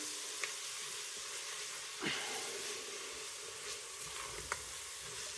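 Spiced lamb mince frying in a pan for haggis, a steady soft sizzle and hiss with a few faint stirring scrapes and clicks, fairly quiet and close.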